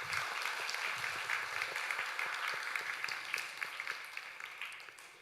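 Congregation in a Sunday church service applauding together, a steady, dense wash of many hands clapping that holds for about five seconds and thins slightly toward the end, with no talking over it.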